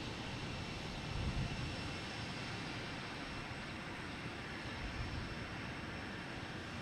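A JetBlue Airbus A220 arrives at Logan Airport, a broad, steady jet roar at moderate distance with a faint engine whine, holding level throughout.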